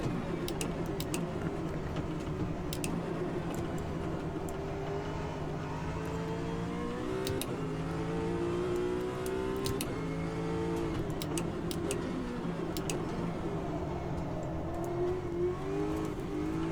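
A race car in the sim racing game Automobilista 2 drones steadily close up, its engine note rising and falling through gear changes, with faint regular ticking over the continuous roar and no talk.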